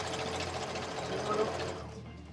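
A sewing machine running at high speed, a steady loud mechanical whir that holds for about two seconds, then slows and fades near the end.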